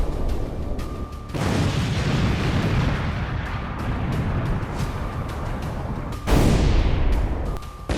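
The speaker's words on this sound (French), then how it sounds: "provoquant une explosion d'une puissance démesurée qui a soufflé aux alentours" Old T-55 tank packed with TNT blowing up after a grenade launcher strike, two massive sudden booms, each followed by a long rolling roar of blast and debris.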